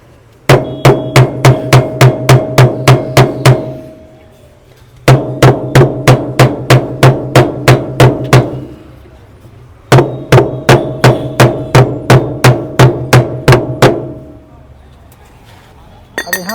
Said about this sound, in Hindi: थोड़ा ठोक देते हैं, हो सकता है ये खुल जाए।